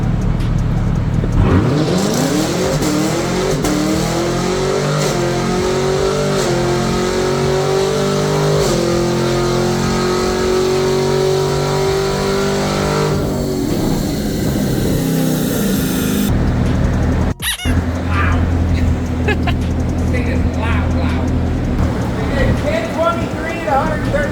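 A car on a dyno accelerates hard through a simulated quarter-mile run, engine revving up in long rising sweeps with gear changes before dropping off. People talk over it near the start.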